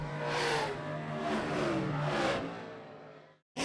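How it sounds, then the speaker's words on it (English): A race car engine revs repeatedly in a racing setting, three rising and falling surges at moderate distance before fading out and cutting off abruptly at the end. "we think the best part about racing is the noise, the engine, the pits, and a Kevin Harvick top 10 finish"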